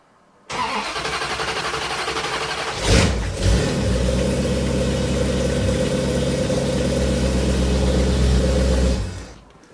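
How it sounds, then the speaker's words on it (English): A classic carbureted car fitted with Holley Sniper fuel injection makes a cold start on a chilly morning after sitting overnight. It cranks briefly, catches and fires, then settles into a loud, steady idle up close. "This car has not been cranked once today, right?"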